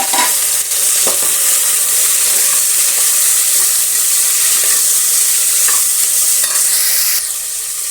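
Chopped onions and finely cut tomatoes fry in a hot pan for a rice bath, giving a steady, loud sizzle and hiss throughout with faint stirring scrapes and no talking.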